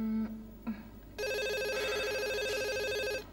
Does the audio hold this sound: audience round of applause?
no